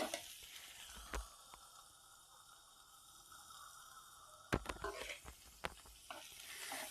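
Onions and green chillies fry in a pan, a quiet steady hiss close by, with a few sharp clicks and taps from stirring near the end.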